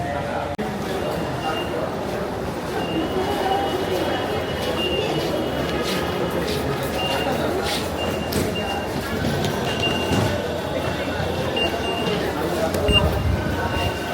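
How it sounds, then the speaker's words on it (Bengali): A Bangladesh metro rail train rumbles steadily in an enclosed space, with a continuous low drone and faint electronic tones throughout. "তো এখন আমরা মেট্রো রেলে চড়বো"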